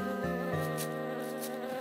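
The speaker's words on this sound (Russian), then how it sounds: "только пчелки жужжат и комарики звенят" Bees buzz and mosquitoes whine in a hot, quiet garden, a close, steady humming drone with shifting pitch and no voices.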